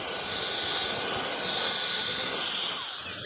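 Prawns threaded on skewers sizzle on a grill at a mountain campsite, a loud, steady hiss that holds close and even throughout, with no talking.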